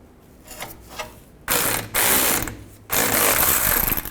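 A ratchet tightens a nut while catalytic converters are replaced on a 2007-2014 Chevrolet Silverado 2500 HD: faint clicking at first, then loud, close bursts of rapid pawl clicks in two long runs with no talk.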